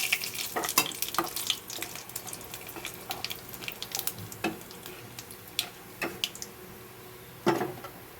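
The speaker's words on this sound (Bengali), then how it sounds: "আমি ফোড়ন দেওয়ার জন্য কালো জিরে আর 2টো শুকনো লঙ্কা নিচ্ছি।" Nigella seeds and two dried red chillies hit hot oil in a pan for tempering a pomfret mustard curry, giving a close, crackling sizzle with scattered sharp pops and stirring scrapes.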